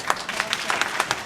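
Audience applause at a 2018 League of Women Voters congressional candidate forum for Virginia's 11th District: a short patter of scattered hand claps, fairly steady and moderately loud, with faint voices mixed in.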